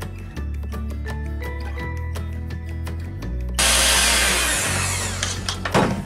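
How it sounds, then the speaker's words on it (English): An electric hand mixer whirs steadily through almond flour muffin batter, a loud continuous motor hum with beaters clattering, then turning harsher and brighter as it speeds up. "you're going to mix this with your hand mixer and kind of really get this mixture homogenized"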